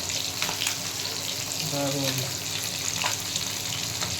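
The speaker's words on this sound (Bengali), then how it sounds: "দেখুন মাছগুলো কেমন ভাজা হচ্ছে" Small fish frying in oil, a steady close crackling sizzle running throughout while someone speaks briefly over it.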